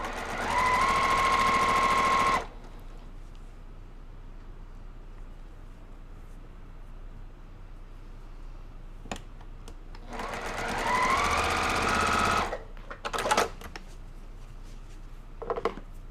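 Sewing machine stitching quilt block pieces in two loud, steady runs of about two seconds each, with a quiet pause between and a few clicks and handling knocks at the end.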